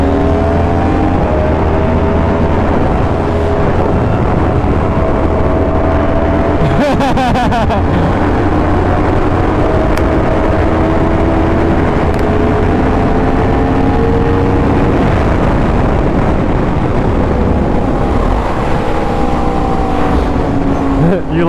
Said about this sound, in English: there's something about the sound of the R1, man